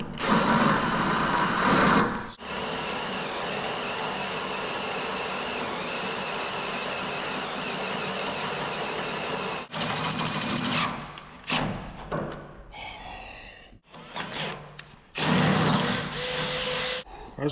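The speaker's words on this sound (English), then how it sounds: "So, cordless drill it is." A cordless drill whines steadily into wood for several seconds, then stops and restarts in shorter bursts with a few thumps between.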